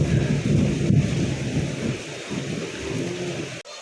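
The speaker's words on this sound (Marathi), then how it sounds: "आता तर ना विजा पण कडकडायला लागलेल्या आहेत" A heavy thunderstorm breaks over Pune after intense heat: a loud, continuous downpour with deep rolling thunder, strongest at the start and easing slightly toward the end.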